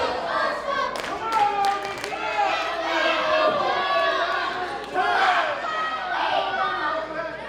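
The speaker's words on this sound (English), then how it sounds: "The crowd fully into this one." Wrestling crowd at a Masonic Temple main event, steady loud cheering with bursts of clapping and shouting throughout, a dense near roar that swells around the middle and late moments.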